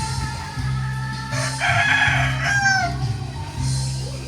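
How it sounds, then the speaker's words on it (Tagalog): A pure labuyo junglefowl rooster crows loudly nearby, one long drawn-out call rising and falling over a background of other chickens clucking and low ambient noise. "Dami pong manok rito."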